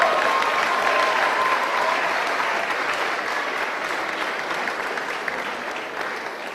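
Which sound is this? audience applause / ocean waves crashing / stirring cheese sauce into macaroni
audience applause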